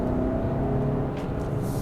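A 2024 Hyundai Santa Cruz Limited AWD with its 2.5-litre turbo engine accelerates hard in traffic, a low rising engine drone with road and wind noise heard from the cabin.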